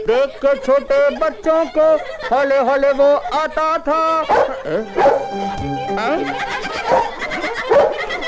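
In a Hindi film, a voice imitates a dog barking and yipping amid a sung song with musical accompaniment. The yelps come in short bursts over the melody and are most prominent in the second half.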